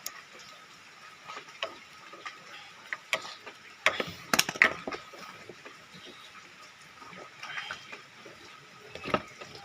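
Bolts on the starter motor of a Yamaha Vega ZR motorcycle being tightened: quiet, close ratcheting clicks in irregular bursts, with a cluster of sharper metallic clicks midway and pauses between.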